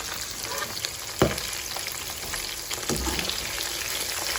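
Steady sizzling of food frying in a pan, a dense hiss throughout with a couple of brief clatters, no voices.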